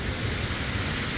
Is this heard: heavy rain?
yes